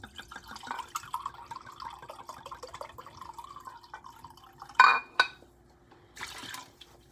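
About half a cup of wine pours into a beef tenderloin black truffle sauce: a thin, steady trickle that runs for a few seconds, followed by a couple of sharp clinks and a short splashy rustle, all fairly quiet.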